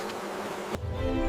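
Bees buzz near flowers in an animated forest setting, a close, steady drone that holds and shifts tone partway through.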